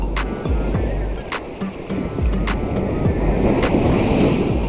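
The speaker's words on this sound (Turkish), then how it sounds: "önümdeki dalgalar şu an çok büyük" Large sea waves break and wash continuously on a Black Sea shore at Karasu during fishing, a loud, wind-buffeted roar with periodic surges and no talk.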